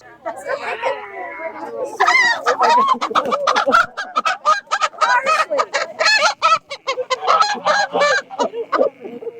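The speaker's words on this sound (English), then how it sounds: "Pebbles and Bam Bam are geese" Geese honk loudly and repeatedly nearby in a rapid, overlapping series of harsh calls, mixed with some clucking.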